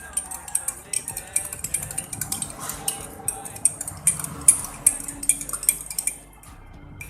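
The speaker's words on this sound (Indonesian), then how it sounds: "Dan diaduk." A spoon stirring food colouring solution in a container, producing a rapid, steady series of light metallic clinks and scrapes against the sides, close and fairly quiet, stopping briefly near the end.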